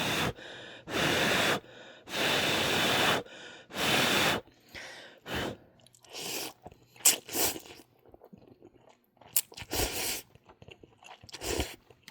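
Someone eats chewy, springy Nongshim Shin Ramyun noodles, first with several long, loud slurps close to the microphone, then with a run of softer, irregular chewing and smacking sounds.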